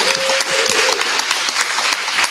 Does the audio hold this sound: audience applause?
yes